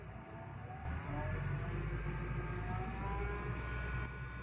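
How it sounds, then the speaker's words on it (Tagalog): A car engine gives a steady low humming drone that swells slightly louder as it revs, heard up close and continuous with no talk. "meron siyang humming noise"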